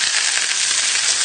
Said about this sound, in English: So then just skin side down into the pan. And you can hear that straight away sizzling